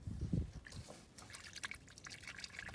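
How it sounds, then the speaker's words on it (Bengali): Water trickling and dripping near a fishing spot at Arial Beel wetland, faint and close, with soft irregular drips and liquid splashes. "পানির শব্দটা।"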